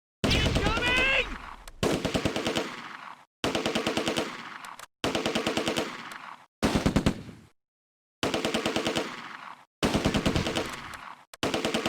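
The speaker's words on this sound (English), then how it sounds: "Alright, wake the machine guns up again." Machine gun fire in the Close Combat: A Bridge Too Far wargame, loud rapid bursts of automatic fire repeating every second or two with brief silent gaps between them.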